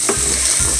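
Garlic hits a hot frying pan with steady, close sizzling and a couple of scraping stirs, no voices present.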